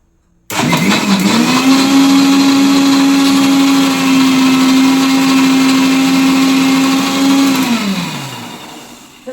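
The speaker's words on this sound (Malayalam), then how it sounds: "ആ ജാറിലേക്ക് അത് മൊത്തം ഒന്ന് ഇട്ട് കുറേ ഐസ് ക്യൂബും കൂടെ ഇട്ടു കുറേ വെള്ളവും കൂടെ ഒഴിച്ചു അപ്പോൾ ഇത് ഇനി നന്നായിട്ടൊന്ന് ബീറ്റ് ചെയ്തെടുക്കുകയാണ് ചെയ്യുന്നത്" A mixer grinder jar blends a mixture with ice cubes and water, starting abruptly into a loud, steady whining roar that holds for several seconds before winding down, with no talking.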